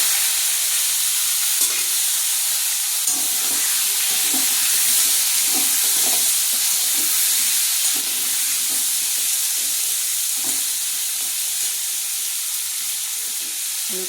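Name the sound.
potatoes frying in oil with bay leaf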